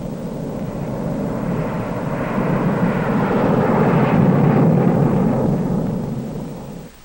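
A specially instrumented Air Force test aircraft flying nuclear weapon safety tests roars past as a broad, loud engine rumble that swells toward the middle and fades away at the end, with no talking.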